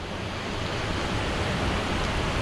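Steady, dense rush of a fast, muddy brown river in rain close by in New Zealand, loud and continuous without breaks.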